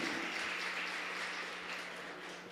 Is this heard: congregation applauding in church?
yes